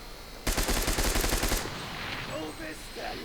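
A German double-magazine submachine gun in Enlisted fires one fast, loud burst of about a second, rapid evenly spaced shots close by, then cuts off, leaving lighter gunfire and battlefield noise in the background.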